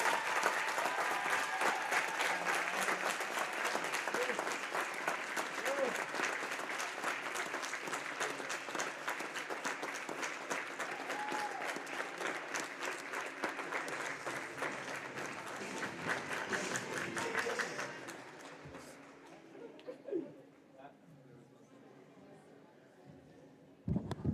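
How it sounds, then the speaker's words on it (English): Sustained applause from a basketball crowd honoring someone at a boys varsity game between Luck and Unity, loud and steady for about eighteen seconds before fading into scattered claps and quiet gym ambience. "Please join me in celebrating Sharon Stahl and showing our sincere appreciation with a heartfelt round of applause"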